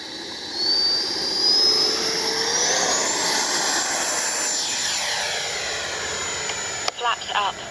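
A Freewing Zeus 90mm six-cell electric ducted fan RC jet takes off on a calm day with flaps set, its whine climbing steadily in pitch into a loud sustained roar and then fading slightly as it moves away.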